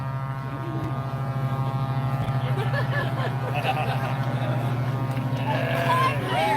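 A truck rolls past an outdoor rally in Canberra, sounding its horn in a sustained, loud, low droning blare that carries through the whole stretch, with crowd murmur and scattered voices underneath.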